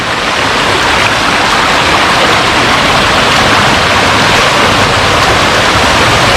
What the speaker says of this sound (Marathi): बघा हा इकडे झरा आहे